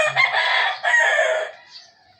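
A chicken crows in a single loud, close call lasting over a second, followed by a softer trailing cluck as it fades.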